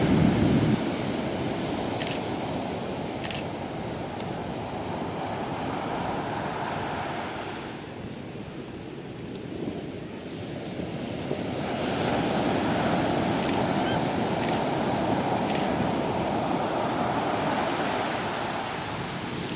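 Ocean surf breaking continuously on Vero Beach at sunrise, a steady broadband wash of waves that swells and eases, with some wind noise on the microphone and no talking.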